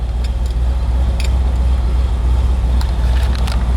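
A 1965 Pontiac GTO convertible with its engine running steadily, a loud, close, deep rumble holding even throughout, with faint clicks and ticks over the drone.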